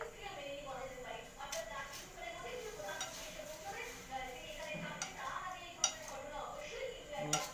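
Shrimp mixed by hand in a bowl with white and black mustard and green chilli paste, giving soft scraping and occasional light clinks of utensil on dish under ongoing talk.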